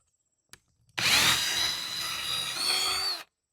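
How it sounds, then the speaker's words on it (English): A power drill bores small pilot holes for fitting a keyless shed lock, after a brief click: one steady, close whirring burst of about two seconds, then silence. "I'm going to drill my little pilot holes."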